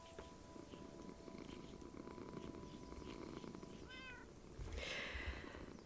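A cat purring in the Minecraft video game, a soft steady rumble under low background game sounds, followed by a brief meow near the end.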